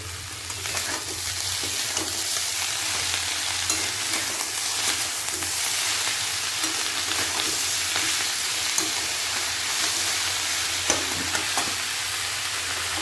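Spinach frying in a pan for a vegetarian dish: a dense, even hiss of sizzling that runs the whole time, close and loud, with a few faint scrapes of stirring and no voices.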